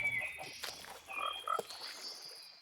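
Soft croaks from a Minecraft frog come in short bursts: a few brief warbling calls and chirps spaced through the clip over faint background ambience, with no talking.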